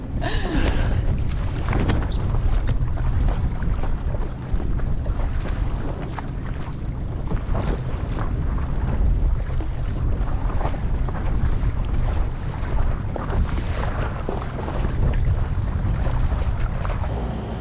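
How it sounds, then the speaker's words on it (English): Loud, steady wind roaring and buffeting the microphone outdoors on open water from a rowing boat, with low rumbling gusts and faint splashing, constant for the whole stretch. "We've got to fight the wind, which has come up now"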